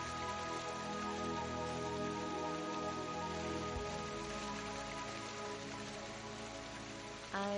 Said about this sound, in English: I didn't think you'd keep me waiting in the rain for so long.